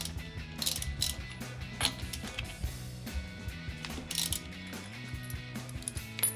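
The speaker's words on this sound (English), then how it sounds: "So we'll break loose our lug nuts." Lug nuts being broken loose on a rear wheel of a 2005-2014 Ford Mustang, heard as a run of clicking ratchet-wrench strokes and metallic mechanical clatter over a low steady hum, close and fairly loud with no talk.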